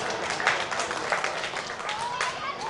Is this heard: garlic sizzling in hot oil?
no